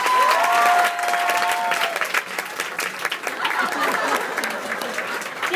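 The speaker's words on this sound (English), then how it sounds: "so give them a round of applause." Comedy club audience at a Minneapolis show breaking into applause, loud dense clapping at the start that eases slightly but keeps going evenly to the end, with faint crowd murmur beneath.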